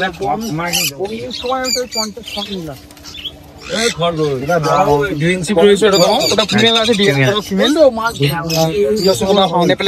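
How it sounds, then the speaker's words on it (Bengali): Green cheek conures and other caged birds squawking and chirping at a busy bird market in Serampore, with repeated harsh calls and coos rising and overlapping, loud and close, while people talk nearby. "এটা কিন্তু গ্রিন চিক আছে"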